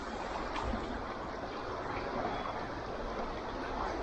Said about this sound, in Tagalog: Lumakas ang tubig eh. malakas ang tubig bigla.